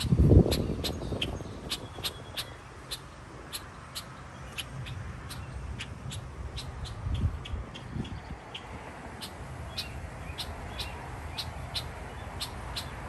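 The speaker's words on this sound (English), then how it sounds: "This is the bird that keeps chirping. It's a red-winged blackbird." Repeated short, high chirps from a red-winged blackbird near its nest ring out at a steady pace over a soft outdoor rumble in a Japanese garden, fairly close and clear.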